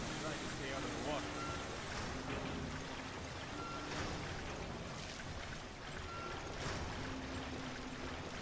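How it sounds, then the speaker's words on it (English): Rising flood water sloshes and streams through a flooding area in the video game Resident Evil: Revelations, a steady churning wash lasting throughout under a man's speech and faint game tones. "The water's getting higher."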